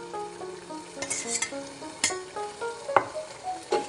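Chopped coriander is stirred into a fish oil curry frying in a pan. A soft sizzle runs underneath while a utensil clinks and scrapes against the pot in irregular strokes.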